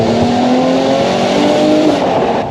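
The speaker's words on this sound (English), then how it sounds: "You just can't beat a V6 engine." Mercedes SLK V6 engine revving while driving, a loud, steady close-up drone with a sustained engine tone holding throughout and no speech.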